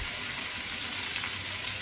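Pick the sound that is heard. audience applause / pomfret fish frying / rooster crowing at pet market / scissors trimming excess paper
pomfret fish frying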